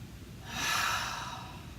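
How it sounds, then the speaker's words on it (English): One slow, audible inhale through the nose during a postural exercise against a wall, a soft airy breath swelling and fading over about a second and a half, close and quiet. "and then we breathe in."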